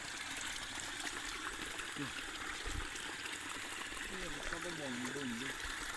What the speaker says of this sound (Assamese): এইটো আমাৰ নদী হয় ডাইৰেক্ট একদম বহুত দূৰলৈ আছে নদীটো